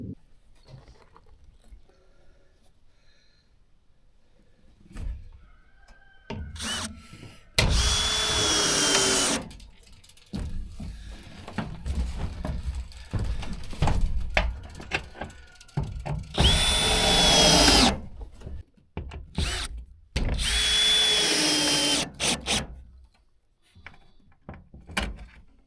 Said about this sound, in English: I put in the next 1 million screws